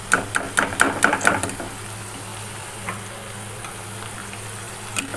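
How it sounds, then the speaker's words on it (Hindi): Taro root sizzles in hot oil with a busy crackle, louder clicks and stirring at first, then a softer steady bubbling hiss. "ये 3 से 4 मिनट हो गए इसको फ्राई होते हुए"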